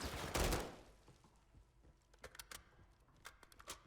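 Gunfire in the video game Warzone, a loud burst at the start followed by scattered sharp distant shots and quick rattling volleys, no talk.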